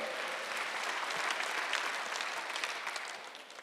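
A congregation claps steadily together, a dense, continuous wash of applause that holds level for a few seconds and then begins to taper.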